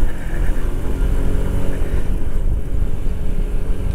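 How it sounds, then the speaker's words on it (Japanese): Yamaha Majesty S scooter engine on a test ride after servicing, a steady loud drone at around 5500 rpm at just over 30 km/h, with engine braking as the throttle closes. "これスロットル戻すと結構エンジンブレーキが"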